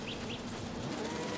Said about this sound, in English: the white-throated bee-eater bird